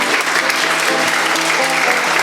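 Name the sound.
applause for contestants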